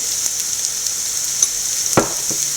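Grated coconut sautéed with chopped green chilli, turmeric and salt in a pan, a steady close sizzle with light intermittent spatula taps and one firmer scrape.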